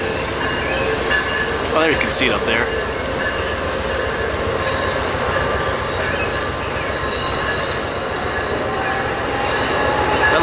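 Passenger train rolling around Horseshoe Curve, a steady loud rumble of wheels and rail with a shrill flange squeal running throughout, nearby and continuous, while a voice speaks briefly over it.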